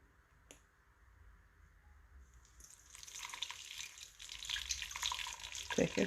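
Pineapple and carrot juice is poured through a new stocking cap stretched over a strainer, starting as a quiet trickle and building into a steady splashing, dripping stream in the second half.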